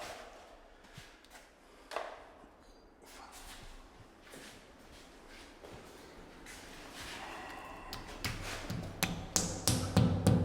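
Red plastic wall plugs being tapped into drilled holes, quiet scattered taps and handling noises that grow into a quick series of sharper, louder knocks toward the end.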